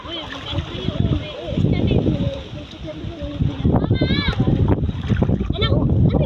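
Rushing water from a waterfall beneath the Monte Maria shrine fills the scene as a steady wash with splashes, under people and children talking throughout.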